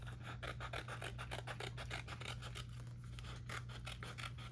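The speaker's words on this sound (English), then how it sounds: "I would ordinarily use my regular scissors, but the micro tips are the ones I can find" Micro-tip scissors snip through a sticker sheet in quick, repeated close-up cuts, a steady run of crisp rasping strokes over a low, constant background hum.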